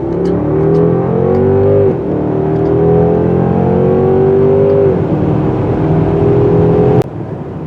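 A 2021 Mercedes-Benz S580 4MATIC cruises an open country road, its engine and tyres making a smooth, close drone that rises through gear changes and then drops away near the end, with no talking.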